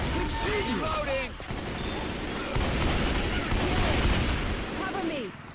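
Dense, continuous gunfire from a Left 4 Dead 2 zombie firefight: rapid overlapping shots keep up throughout, loud and close, with several character voices shouting over the shooting.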